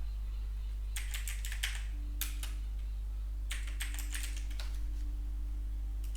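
Fingers type on a computer keyboard in quick clustered bursts of crisp clicks separated by short pauses, close and clear over a steady low electrical hum.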